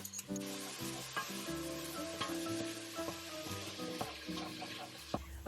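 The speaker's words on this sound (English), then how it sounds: "Next step, onions and garlic in the saute pan and brown those up a little bit." Onions and garlic sauté in a pan for turkey pumpkin chili, giving a steady, close sizzle with soft stirring scrapes. Low, sustained tones sit underneath throughout.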